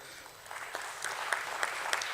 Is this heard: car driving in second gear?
no